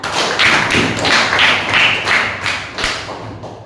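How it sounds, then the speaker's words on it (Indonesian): Schoolchildren in an Islamic Quran and Hadith class clap together in a rhythmic, unison pattern, with bursts of claps repeating about every third of a second at a close, fairly loud level. "tepuk tangan untuk Diana."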